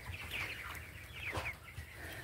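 Cornish rock cross meat chickens gather at a barn feeder, giving soft, intermittent clucks and murmurs close by over a low steady background hum, with no talking.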